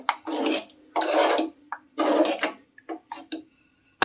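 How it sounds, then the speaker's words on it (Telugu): Tomato dal stirred in a cooking pot, with a run of scraping, clattering strokes in uneven bursts, close and fairly loud, with no talking. "పప్పు మంచిగా కలిసే వరకు కలుపుకోవాలి"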